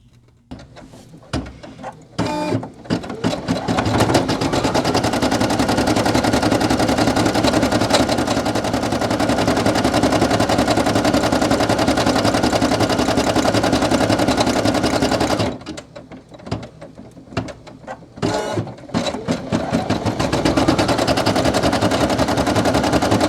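Brother PE800 embroidery machine stitching a patch, a loud, close, fast rattling hum that runs continuously for long stretches, pauses briefly with some clicks, then starts again.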